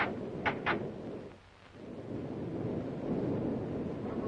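Thunder rolls during a storm as a deep, sustained rumble with a brief lull, joined by gusty wind noise and two short sharp cracks near the start.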